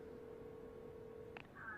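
A phone in the video game Devil May Cry 5 dials out, a steady electronic tone holding before a short click and a brief higher ringing beep, faint and isolated.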